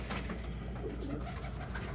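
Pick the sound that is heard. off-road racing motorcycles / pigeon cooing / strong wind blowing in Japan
pigeon cooing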